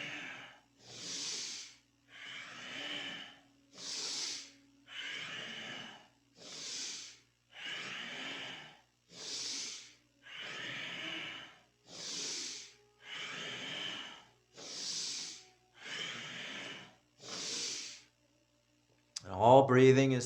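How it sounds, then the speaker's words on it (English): Rhythmic nasal breathing during a Kundalini yoga kriya for morning sadhana, about fifteen even, loud breaths at steady two-second intervals, close and alone, ending with a brief louder rustle. "All breathing is through the nose in all these exercises today."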